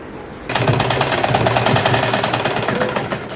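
A sewing machine stitches fabric for a small girl's frock, running in a loud, fast, even mechanical chatter close by after a short quiet start.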